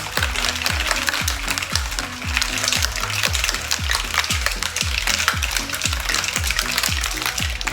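Ice rattles rapidly in a cocktail shaker while mixing a Painkiller cocktail, a brisk steady rhythm of clattering shakes that continues unbroken and close.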